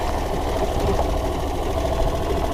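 A Club Car golf cart engine, its carburetor bypass bypassed, idles with a steady rapid mechanical chatter and low putter, close and even for the whole stretch with no talking.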